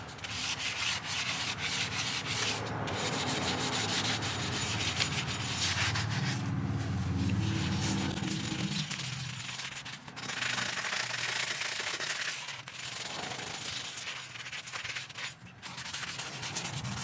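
Steady abrasive sanding and scuffing on a car wheel rim being prepped for primer and paint, a continuous close rubbing rasp with brief pauses and strokes throughout.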